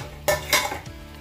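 Spoon scraping and clanking in a pan while rice is stirred with biryani spice, two quick metallic clatters followed by a softer scrape, brief and fairly quiet with no talk.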